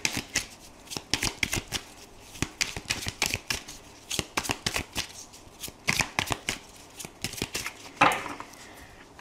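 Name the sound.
tarot cards being shuffled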